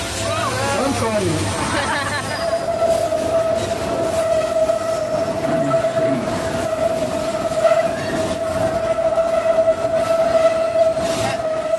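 A train runs through a tunnel with a loud, sustained rumble and clatter of wheels. A steady tonal whine rises above it, and voices chatter faintly in the background.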